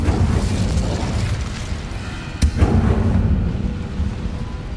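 Incendio fire spell cast in Hogwarts Legacy, heard as a loud, rumbling roar of flame with a sharp crack near the middle, followed by a sustained fiery whoosh. No talk.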